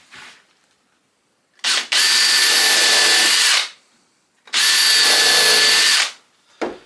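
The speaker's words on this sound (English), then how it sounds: "we will pilot and countersink at the same time using one of these bits" Power drill with a combination pilot-and-countersink bit boring screw holes in rough-sawn timber planks for a National beehive, two loud sustained bursts of about two seconds each, close up, separated by quiet pauses, with a brief start of a third.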